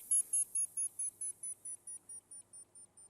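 A very high-pitched electronic tone pulses in a steady series of about fourteen short beeps, gradually fading in loudness, over a faint low hum.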